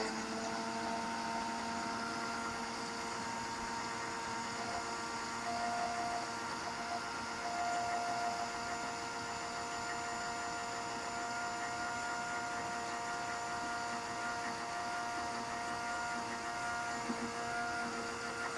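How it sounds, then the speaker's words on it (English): A blender whirs through scoops of vegan split pea soup in a home kitchen, a steady mechanical drone with a motor hum that stays even for nearly twenty seconds, fairly faint and without talk. "I'm going to blend that up real quick."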